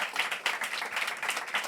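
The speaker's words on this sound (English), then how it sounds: "So an extra round of applause for you" An audience claps after a performance, a dense and steady round of applause that carries on evenly throughout.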